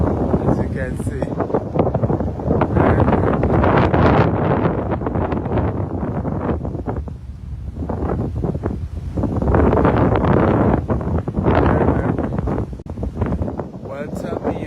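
Strong wind blows near open water, buffeting the microphone with loud, continuous roaring gusts that rise and fall, and a voice can be heard talking underneath.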